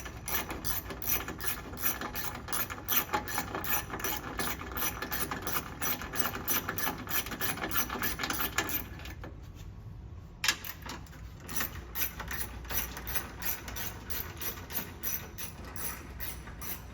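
Ratchet clicking steadily as it backs out the 13 mm factory radiator hold-down bolts on a Fox Body Mustang, close and continuous with a brief pause midway before the rapid clicking resumes.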